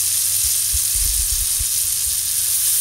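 Curry leaves hit hot oil in a pan of cooked masala for vegan Bombay potatoes, giving a loud, steady, close-up hiss and sizzle that fills the whole moment without a break.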